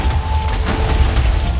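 An exploding meteor in Minecraft: a run of muffled booms and rumbling blasts with crackling bursts on top, steady and fairly loud throughout.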